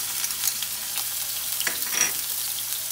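Grated onion sautés in a pan with a soft, steady hiss and frying crackle, close and even, with a couple of brief stirring scrapes and no talking.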